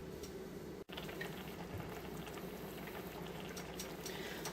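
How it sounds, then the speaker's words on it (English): Spaghetti puttanesca sauce simmers quietly in a pot, giving a soft, continuous bubbling and hiss with faint pops, heard alone at low level. "Alright, so you see it simmering nicely."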